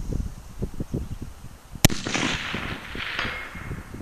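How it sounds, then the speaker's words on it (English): A single .30-06 rifle shot fires a Hornady 168 grain match hand load at a 350-yard target. The loud, sharp crack rolls off into a long outdoor echo over steady background noise. "Gonna be shooting the Hornady 168 grain match bullet, my hand load."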